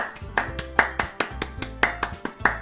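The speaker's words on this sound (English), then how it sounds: "The four of us applaud." Sharp, evenly spaced claps ring out in a quick rhythm in the video game Doki Doki Literature Club, several hands clapping over a low sustained tone, clean and close.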